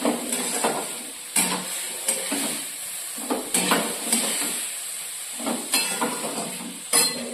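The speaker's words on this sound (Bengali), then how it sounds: "এরপর এটা দিয়ে খুব ভালো করে নাড়াচাড়া করে নেব।" Whole coriander and garam masala spices fry in a pan for a paneer roll, with a constant sizzle and rhythmic, regularly spaced scraping strokes from vigorous stirring, close and fairly loud with no talking.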